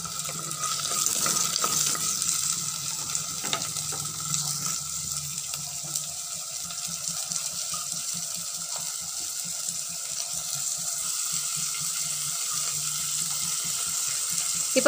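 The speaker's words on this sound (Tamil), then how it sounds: "இப்போது ஒரு 7 பல் பூண்டு சேர்த்துக்கலாம். லைட்டாக வதக்கி விட்டுக்கலாம்." Garlic cloves being lightly sautéed in a pan while preparing Parai fish kulambu, a steady close sizzle with faint clinks of stirring running throughout, no voices.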